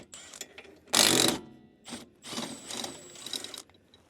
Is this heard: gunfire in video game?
no